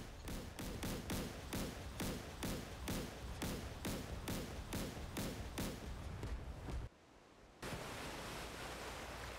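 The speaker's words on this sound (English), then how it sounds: "Type 45 is firing the main gun" A Type 45 destroyer's main gun firing in DCS World, regular heavy booms repeating about every half second over constant wind-like noise, then a brief gap before the noise returns.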